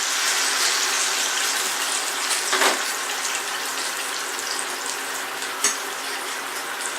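Pork jowls frying in a pan, rendering their fat, a steady soft sizzle with a couple of brief sharper spits and pops.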